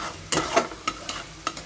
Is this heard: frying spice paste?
yes